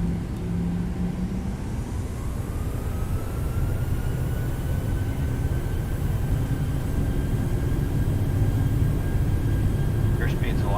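A PMDG 737-800 airliner in Microsoft Flight Simulator spools its engines to takeoff thrust: a steady, loud, broad roar with a slowly rising whine, and voices talking over it throughout.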